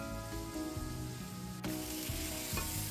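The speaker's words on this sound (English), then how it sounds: "immediately saute the vegetables with the herbs" Vegetables and herbs sautéing in a pan after browning pork ribs, a soft steady sizzle with occasional stirring scrapes, close and continuous, no voices.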